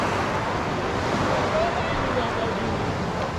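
Ocean surf at a popular beach, a steady, dense wash of breaking waves filling the whole stretch with broadband noise, with no distinct individual breakers standing out.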